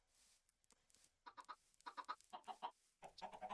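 Chickens in the Minecraft video game cluck in short repeated bursts, coming in several irregular clusters. The clucks are close and clear, with no talking.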